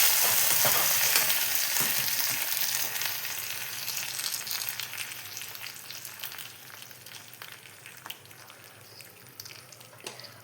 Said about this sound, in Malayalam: ഇനി നമ്മൾ അതിനെ എടുത്ത് കറിയിൽ ചേർത്ത് കൊടുക്കുകയാണ്